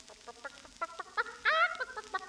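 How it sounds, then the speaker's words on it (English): A chicken clucks in a quick run of short, bright calls that build to a louder, drawn-out squawk near the end before tapering off, with no voices. "Am I getting upstaged by a chicken?"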